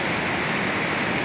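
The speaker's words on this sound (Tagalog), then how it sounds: "Biglang lumakas ang ulan" Heavy rain pours down on a Manila street at night, a dense, loud, unbroken hiss with no voices.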